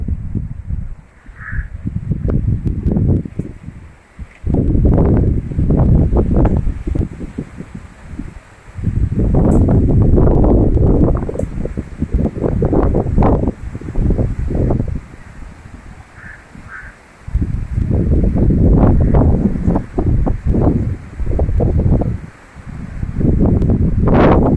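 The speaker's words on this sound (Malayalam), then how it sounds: "ശക്തിയായ കാറ്റ് വീശിക്കൊണ്ടിരിക്കുകയാണ്." Strong wind blowing across the Peramangalam area of Thrissur, Kerala, arrives in loud rumbling gusts that buffet the microphone, each lasting a few seconds, with quieter lulls between them.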